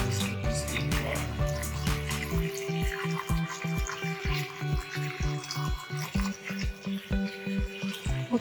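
Distilled water poured in a steady trickling stream, splashing and gurgling at close range for several seconds, with a voice and other background sounds intermittently mixed in.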